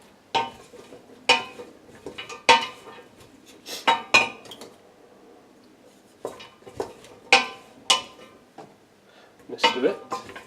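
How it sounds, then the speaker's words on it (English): A utensil stirs courgette, pepper and spices in a pan. Sharp metallic clinks and scrapes come in irregular clusters, close and fairly loud, with short quiet gaps between. "Just want to stir this around so that it gets a good cover from all the spice we put in earlier."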